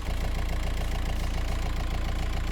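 A race car engine idles steadily right after starting, a loud, rough, rhythmic rumble with a pulsing beat throughout and no voices.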